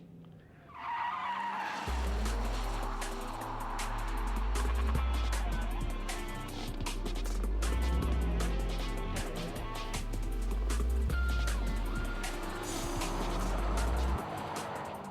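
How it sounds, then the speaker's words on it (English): A car engine roars in repeated surges while tires skid and scrape continuously on dirt, with gravelly crackles throughout as the car drifts sideways. "gets the car sideways and gets you into that drift to begin with"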